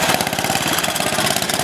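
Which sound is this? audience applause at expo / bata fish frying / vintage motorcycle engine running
vintage motorcycle engine running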